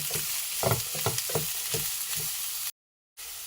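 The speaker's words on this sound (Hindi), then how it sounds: "ये हमें इन सब्जियों को स्लो स्लो फ्लेम पे पकाना है।" Vegetables cooking slowly on a low flame in a pan for a Sindhi paneer lasagna, soft steady sizzling with a few stirring scrapes, close and alone, ending in a brief silence.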